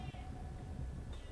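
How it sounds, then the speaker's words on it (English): A pet cat, a male, meows persistently somewhere in the background of a room, the calls faint and partly buried under steady game sound and noise. "That's my cat. For some reason, he's being extremely annoying and just meowing non-stop."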